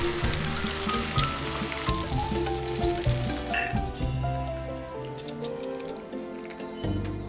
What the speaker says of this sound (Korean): 양파, 베이컨을 넣고 볶아줄게요